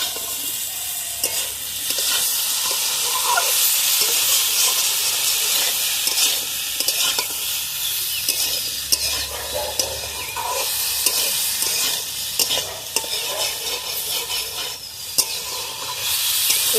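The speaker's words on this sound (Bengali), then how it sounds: "এবার আমি ভেজে রাখা যে সয়াবিনগুলো এগুলো দিয়ে দেবো, আর ভেজে রাখা আলু একসাথেই দিয়ে দেবো, দিয়ে আমি ভালোভাবে আবার কষিয়ে নেবো" Fried soybean chunks and fried potatoes stir-fried together in a spice paste in a pan, giving a loud, steady sizzle with frequent spoon scrapes and stirring scuffs throughout.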